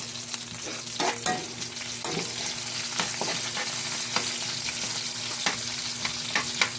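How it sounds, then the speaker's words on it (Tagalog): Chopped onions sizzle and fry in a hot pan for a simple Filipino home-cooked dish, with a continuous crackling hiss and scattered sharper pops and stirring scrapes, close and steady. "Isunod naman natin mga lods yung ating sibuyas."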